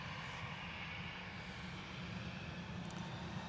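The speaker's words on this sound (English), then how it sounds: "There's Ryanair from Cork, touching down." A Ryanair airliner arriving from Cork touches down at Manchester Airport, a distant, steady engine roar and rushing rumble holding faint and even throughout.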